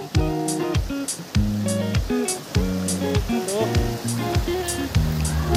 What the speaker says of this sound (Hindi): इन पत्थरों से छन कर पानी नीचे जा रहा है